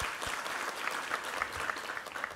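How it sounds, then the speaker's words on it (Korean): A church congregation claps in praise during a Sunday worship service, a steady, moderately loud patter of many hands filling the room, with no speech over it. "우리 하나님께 감사와 영광의 박수 올려드리겠습니다."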